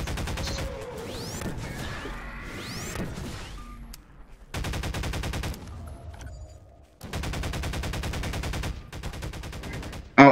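Rapid automatic gunfire in the game Garry's Mod, sounding in dense sustained bursts separated by short pauses, close and loud, with a faint voice briefly underneath.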